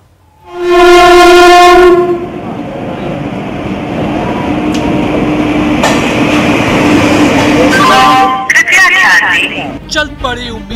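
A train on the Darbhanga-Saharsa route sounds a loud, sustained horn blast, then rumbles and clatters steadily along the rails, close by, with brief squeals near the end.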